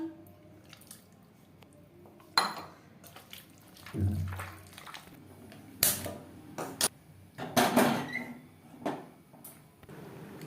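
Spice-rinsing water poured into meat being cooked for a traditional Bengali kosha mangsho, heard as a few close wet splashes, squelches and drips scattered among quieter kitchen handling noises.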